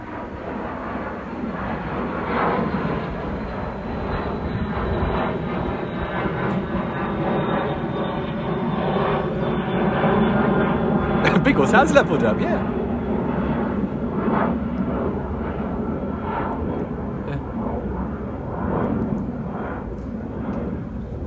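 A low, roaring jet aircraft flying a few hundred feet overhead rumbles loudly and continuously, swelling slightly midway, with a brief spoken remark partway through.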